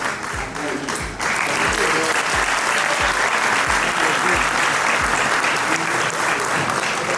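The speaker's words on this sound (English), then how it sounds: "Big round of applause to the First Lady of Liberia." An audience at a foundation luminary event breaks into sustained applause after a speech by Liberia's First Lady, a dense steady wash of clapping that swells after the first second and holds loud, with faint voices under it.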